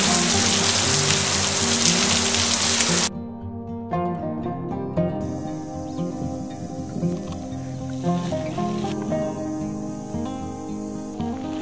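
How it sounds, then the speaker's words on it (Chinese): Heavy rain pours down over flooded rice paddy fields during the harvest, a loud dense hiss that drops off abruptly after about three seconds. Layered background sound follows, and the rain stays faint beneath it. "下雨下这么大"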